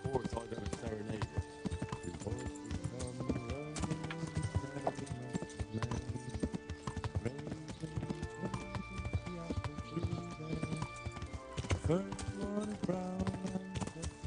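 Horse hooves clip-clopping at a steady walking rhythm in the video game Kingdom Come: Deliverance, layered under game music and someone talking over it.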